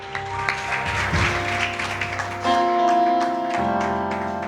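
Hands clap across a church congregation during a sermon, with sharp claps layered over sustained keyboard or organ chords and tones that shift partway through, filling the space at a moderate, steady level.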